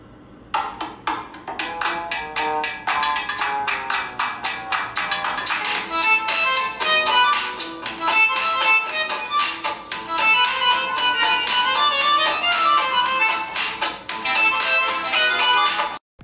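Tecno Spark 20 Pro smartphone dual stereo speakers playing music, a dense, bright track with steady rhythmic hits that runs loud and continuous for the whole stretch before cutting off at the end.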